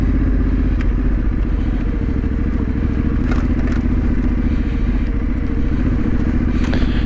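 Trail motorcycle ridden through undergrowth on a green lane, its engine droning loud and steady throughout with clattering and brushing crackles from the bike pushing through vegetation.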